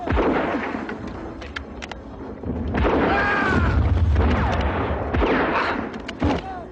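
Bombs exploding in a war drama about the ANZACs, with heavy booming blasts and rumbling bursts that rise through the middle and break off in sharp cracks near the end, amid battlefield commotion.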